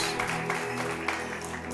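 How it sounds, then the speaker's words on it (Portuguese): A church congregation applauds, a steady mass of clapping hands that stays fairly quiet and even throughout. "Isso, aplauda mais forte."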